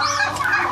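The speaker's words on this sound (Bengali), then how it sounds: "ওই সাইডে দেখেন মোরগ মুরগির ঝগড়া করতেছে" Rooster and hens squabbling on a poultry farm, a dense burst of agitated clucking and squawks, close and loud throughout.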